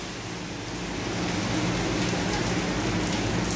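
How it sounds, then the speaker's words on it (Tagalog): Heavy rain pours down steadily in a dense, hissing roar that swells slightly louder after the first second, with no voices, in Jeddah, Saudi Arabia. "masyadong malakas po ang ulan"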